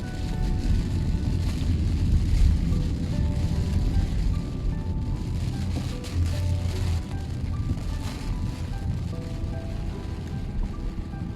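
Rain falls on a parked car in Melaka, a dense steady patter and hiss on the body with a low rumble underneath, continuous and fairly close, with no voices.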